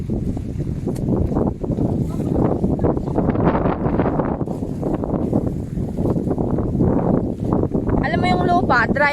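Strong wind roars and buffets the microphone on an exposed hillside at Sharp Peak in Sai Kung, continuous and loud throughout, with voices partly buried beneath it.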